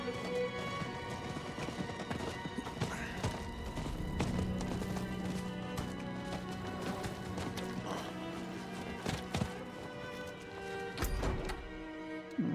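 Rapid, continuous clip-clop of horse hooves from a galloping mount in Diablo IV, close and busy with the odd thud, running the whole time with no talk.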